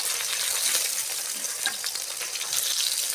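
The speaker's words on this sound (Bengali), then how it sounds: "মাছটা কিন্তু ভাজা হয়ে গেছে" Chara fish frying in hot oil in a home kitchen, a steady close hiss and crackle of sizzling that runs unbroken throughout, with no talking.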